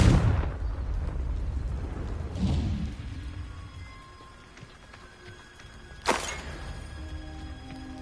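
A Confringo blast spell in Hogwarts Legacy goes off with a heavy booming explosion that rumbles and fades, followed by a softer thump and a sharp, bright burst a few seconds later.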